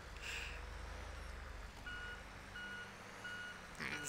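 Reversing beeps repeat at a steady rhythm over the low rumble of a loaded truck engine in GTA 5, the engine drone constant and close throughout.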